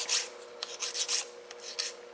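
A nail file rasps back and forth across a child's nails during dip-nail prep, several short, close gritty strokes in quick succession with no voices.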